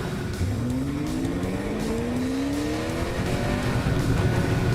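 A 2018 Chevrolet Camaro on a road course, its engine revving and climbing through the gears with rising pitch, loud and steady throughout.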